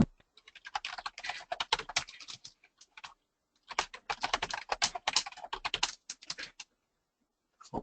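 Password being typed on a computer keyboard: two quick bursts of dense key clicks separated by a short pause, close and clear, with no talking.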